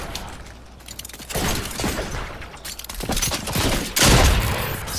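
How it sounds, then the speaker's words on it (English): Gunfire in Fortnite, dense bursts of rapid shots cracking in clusters with some louder volleys, loud and close, with no talk over it. "Someone's shooting at me!"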